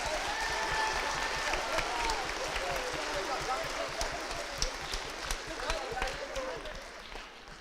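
An audience at a school beginning band concert applauds the band students, with steady, moderately distant clapping that slowly tapers off toward the end.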